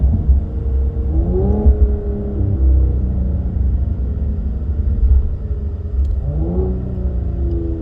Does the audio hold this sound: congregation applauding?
no